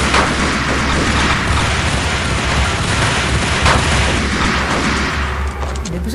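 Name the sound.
gunfire in the video game Max Payne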